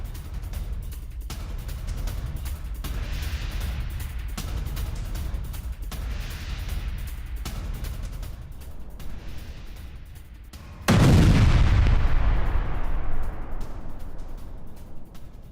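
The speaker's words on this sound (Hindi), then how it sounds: "लेबनान में इजरायली सेना की शेलिंग" Israeli army artillery shelling in Lebanon: a steady, rough outdoor rumble is broken by one loud, close blast that cuts in suddenly and then slowly dies away.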